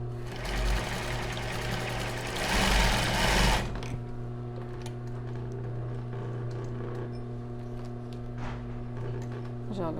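Sewing machine stitching a bra strap and running a backstitch, a loud rapid whirring burst for a few seconds that stops abruptly, followed by a quieter steady hum and small clicks.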